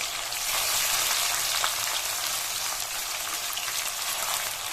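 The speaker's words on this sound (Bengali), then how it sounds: "আমি একে একে তেলের মধ্যে পনিরগুলো ছেড়ে দিচ্ছি" Paneer pieces fry in hot oil, a dense, even crackling sizzle heard close and continuous with no voices.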